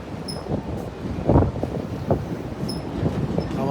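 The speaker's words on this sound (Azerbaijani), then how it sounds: "Hava küləklidir." Gusty wind presses against the glass at the bow of a ship crossing the Dardanelles, a rushing noise that swells in short bursts over a low engine rumble.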